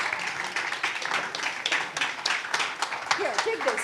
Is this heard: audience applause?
yes